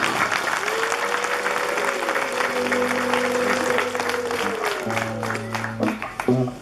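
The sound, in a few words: congregation applause at Christmas mass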